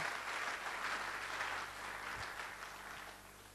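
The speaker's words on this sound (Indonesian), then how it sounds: "Tepuk tangan bagi Allah kita." Church congregation applauding together in steady, sustained clapping that fills the room and fades slightly toward the end.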